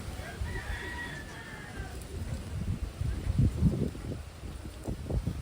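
A checkered Taiwan pigeon, thought to be a hen, gives close, low, throaty coos in short repeated pulses, following a faint higher bird call early on, with a person talking nearby.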